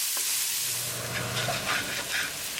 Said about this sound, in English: Add onion. Mix it and keep it moving and keep cooking.